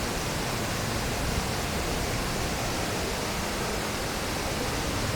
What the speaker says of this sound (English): except for the sound of the river flowing below